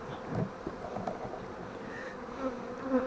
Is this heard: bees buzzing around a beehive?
yes